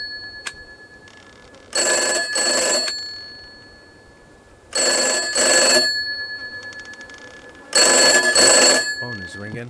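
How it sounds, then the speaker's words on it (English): Telephone rings in the From Day to Day horror game: three separate bursts of loud, bright, rapid bell trilling, each made of two quick rings, with a faint steady tone between them and a short spoken remark at the end. "Phone is ringing."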